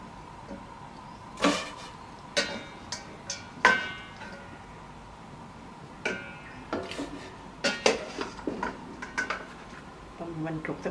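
Pork leg goes into a cooking pot in a kitchen, with scattered clanks and clatters of pots and utensils at irregular intervals, close and fairly sharp, while a voice talks.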